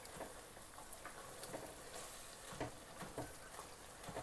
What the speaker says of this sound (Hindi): अब चीनी और सूजी को हमने अच्छी तरह मिक्स करना है और भूनना है सूजी को